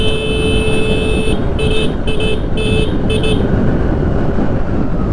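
A scooter rides at about 50-60 through road traffic, producing loud, steady engine and wind rumble, with a few short horn toots from nearby vehicles early on.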